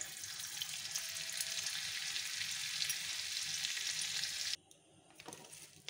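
Butter melting into a little white oil in a hot pan sizzles loudly and continuously at close range for several seconds, then drops off abruptly to near quiet with a few small clicks; no one speaks.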